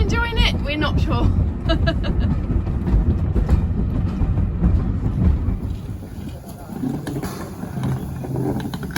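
Isle of Wight steam railway train running, a steady loud rumble and clatter of the carriage throughout, with people talking over it.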